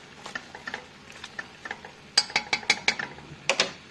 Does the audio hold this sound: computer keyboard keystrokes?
no